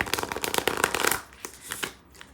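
A newer deck of cards is riffle-shuffled up close, producing a quick burst of crisp flapping clicks that trails into a few scattered softer card taps.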